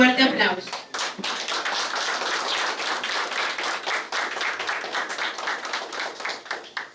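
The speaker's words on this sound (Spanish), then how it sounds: "solicitamos otro fuerte aplauso" Loud, sustained applause from a large crowd, with many hands clapping steadily for several seconds after a brief opening voice.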